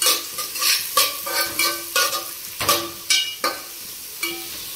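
Onions and fresh curry leaves fry in a pan for bitter gourd tamarind kulambu, stirred in a steady rhythm of about ten scraping strokes over a constant close sizzle, with no speech.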